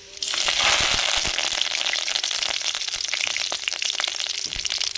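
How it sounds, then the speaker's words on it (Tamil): Mustard seeds and curry leaves crackle and sizzle in hot oil in a pan set up for crab gravy, a loud, steady frying hiss with scattered popping throughout. "எண்ணெய் சுடாச்சுங்க கடுகு போட்டுக்கிறோம் ரெண்டு கருவேப்பிலை போட்டுக்கிறோம்"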